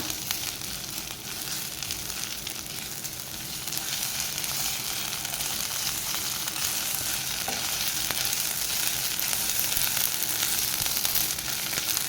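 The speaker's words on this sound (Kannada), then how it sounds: "ಈಗ ಇದಕ್ಕೆ 1 ಸ್ಪೂನಷ್ಟು ಶುಂಠಿ ಬೆಳ್ಳುಳ್ಳಿ ಪೇಸ್ಟನ್ನು ಹಾಕ್ಕೊಳ್ತಾ ಇದ್ದೀನಿ. ಇದನ್ನು ಚೆನ್ನಾಗಿ ಫ್ರೈ ಮಾಡ್ಕೊಳ್ಳೋಣ." Ginger garlic paste fries in hot oil in a pan, giving a steady, dense sizzle that stays loud and unbroken throughout, close up with no talk.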